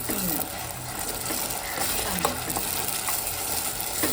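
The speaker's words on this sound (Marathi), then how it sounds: "हे बघा तेल तापत ठेवला" Oil heating in a pan for frying onion masala gives a steady, close sizzle that runs unbroken and hissing, with faint scraping and stirring noises mixed in.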